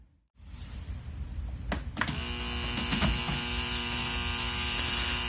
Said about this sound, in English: Looks like it's still making the humming sound, even with the ground connected.